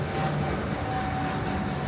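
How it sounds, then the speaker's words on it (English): A fixed-wing airplane coming in to land overhead, heard as a steady, continuous engine roar that stays even in loudness throughout, with no talking. "there's another one landing. You can hear it this time."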